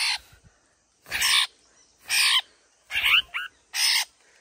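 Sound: caught bird calling in jungle

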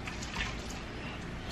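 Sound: pouring water onto a potted plant

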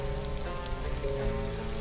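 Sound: rain in Stranded: Alien Dawn video game

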